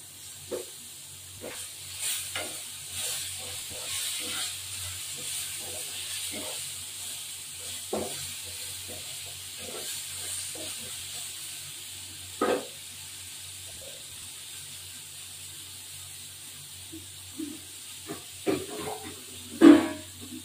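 Spices and ground coriander-cumin sautéing in a pan for a pointed gourd, ridge gourd and rohu fish curry, a soft steady hiss with scattered faint crackles and a few louder clinks of a spatula.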